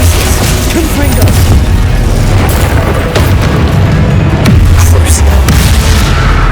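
Spell blasts from Glacius and Confringo in Hogwarts Legacy, a continuous dense barrage of booming explosions with sustained low rumble and crackling bursts, loud and close throughout.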